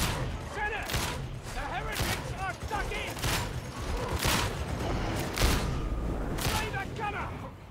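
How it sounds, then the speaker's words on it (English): Another player's gunfire in a shooter video game, a series of sharp shots and booms scattered irregularly, some louder and nearer, over busy game noise and background talk. "There's another guy shooting."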